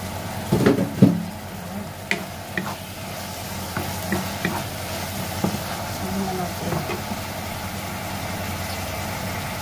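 A covered pan of mixed vegetables with chicken liver cooks in oil, a soft continuous sizzle with a few clinks and scrapes of a utensil or lid early on and scattered light knocks, no voices.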